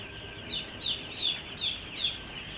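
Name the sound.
chicks peeping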